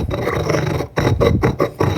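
Stone pestle grinding around the inside of a new molcajete to season it, a loud, close gritty rasp in rhythmic scraping strokes, broken by brief gaps between passes.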